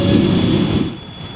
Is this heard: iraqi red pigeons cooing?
no